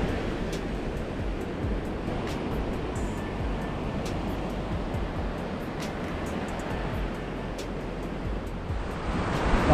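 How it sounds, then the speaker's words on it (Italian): Steady wind blows hard over the sea at a beach during surfcasting under dark rain clouds, a continuous broadband rush with surf roar that stays loud and even throughout, no voices. "inizia a risoffiare vento, bello teso"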